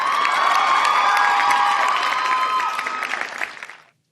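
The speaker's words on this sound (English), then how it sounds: "Let me give you a round of applause." Loud applause mixed with cheering and excited shouts from an audience, sustained and then tapering off quickly into silence.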